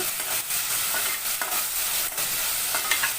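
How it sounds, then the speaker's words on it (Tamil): Sliced onions with salt fry in a pan, giving a dense, continuous sizzle broken by the scrape and clatter of a spoon stirring them, close and without talk. "நம்ம உப்பு சேர்த்ததும் வெங்காயம் நல்லா வதங்க ஆரம்பிக்கும் ஸோ நல்லா வதக்கி விட்டுக்கோங்க"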